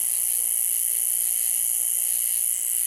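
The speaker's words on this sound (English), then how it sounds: "Crickets." Loud, dense cricket chorus at night during a hot raccoon hunt, a steady unbroken high-pitched trill that fills the whole clip with no voices.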